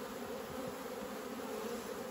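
Honey bees buzz around an opened hive with frames lifted out, a steady dense hum of many insects close by, faint and continuous with no speech.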